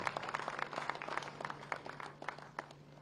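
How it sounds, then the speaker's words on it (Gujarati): An audience at a Gandhinagar foundation day ceremony for the Urban Development Year 2025 breaks into scattered, moderately loud applause, many hands clapping over a steady low hum from the hall. "આવો તાળીઓના ગડગડાટથી આ ડોક્યુમેન્ટ્સને આપણે બધા સ્વીકારીએ છીએ."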